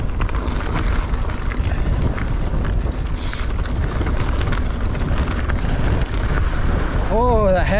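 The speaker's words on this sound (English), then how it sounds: "Oh, uphill and a headwind." Strong headwind roars across the microphone during an uphill mountain bike ride at a bike park, a steady, loud, broadband rush throughout, with a brief brake squeal near the end.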